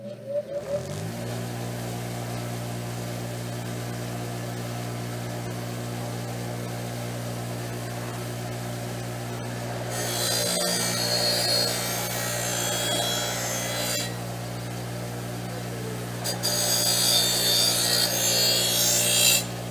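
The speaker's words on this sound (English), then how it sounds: "So let me fire up my bench grinder here, put on some of my protection, and I'll give you a spin," A bench grinder spins up and runs with a steady motor hum while a steel mower blade is sharpened against the wheel, bursts of harsh grinding rising over the drone twice near the end.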